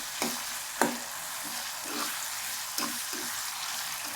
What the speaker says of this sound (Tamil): இது வந்து நல்லா வதங்கி வருதுங்க.